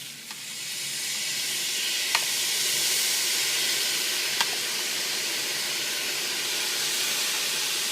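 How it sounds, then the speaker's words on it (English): Garlic, about sixteen cloves, sizzles steadily in a pan over medium heat, a close, even hiss that stays unbroken for several seconds. "We're going to give this a quick cook, just for a minute, just to sweat the garlic."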